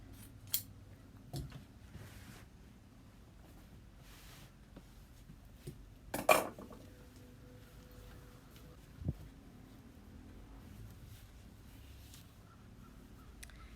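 Scissors cut upholstery fabric for a fluted chair, making a few faint, isolated snips spaced seconds apart in an otherwise quiet room.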